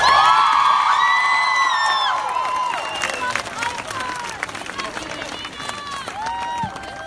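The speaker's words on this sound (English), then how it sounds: "Give her a round of applause." Students at a high school walk-out against gun violence applaud and cheer outdoors, a loud burst of clapping with whoops and shouts that thins out over several seconds while voices carry on.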